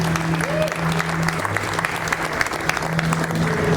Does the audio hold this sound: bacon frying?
no